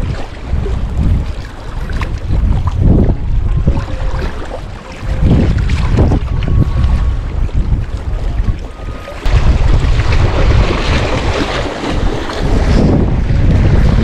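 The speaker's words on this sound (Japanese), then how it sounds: "風は結構左からこっちから吹いてるけど、そんな強ないですね" Wind gusts and rumbles hard against the microphone on the shore of Lake Biwa, with water lapping faintly underneath, loud and continuous.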